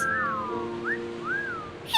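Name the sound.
pirate crew whistling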